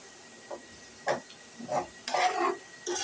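Garlic and onion frying in oil for a jute-leaf dish, heard as soft sizzling broken by several short stirring scrapes and clatters, close and fairly quiet, with no one talking.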